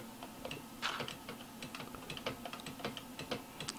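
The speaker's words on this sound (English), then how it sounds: "The clinking clanking of an IBM Model M keyboard." Steady clattering keystrokes on an IBM Model M keyboard, fast irregular clicks running continuously at a moderate, close level with no talking.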